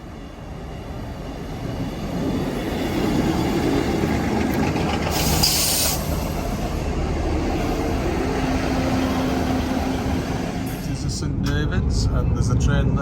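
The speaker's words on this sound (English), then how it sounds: "And there's a train there coming in" A CrossCountry 125 train, power car 43357, rumbles into a Devon station on the Crediton line, a long low roar of wheels and engine building and holding, with a brief higher hiss partway through.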